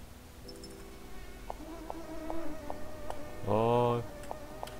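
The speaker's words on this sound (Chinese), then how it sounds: "有蚊子。" Buzzing mosquitoes in the horror adventure game Faust's Nightmare, with a faint insect whine and soft game tones that swell into a louder, close buzz near the end, plus a brief murmured exclamation.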